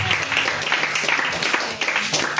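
A church congregation claps and cheers in acclamation of the Lord, a steady wash of applause and raised voices filling the room.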